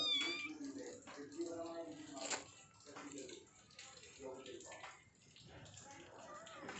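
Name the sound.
cat meowing, waiting for fish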